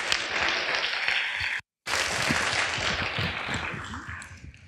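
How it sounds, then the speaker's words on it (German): Audience applause at a climate poetry slam evening greeting a volunteer, a dense, sustained wash of many hands clapping that briefly cuts out, then continues and tapers slightly toward the end. "Herzlichen Applaus für Jan, männliche Glücksfee."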